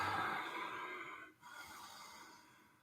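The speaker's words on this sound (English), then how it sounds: "Deep breathing." Deep, steady breathing during a yoga flow, a broad airy rush that fades briefly midway then resumes, close and soft with no talking.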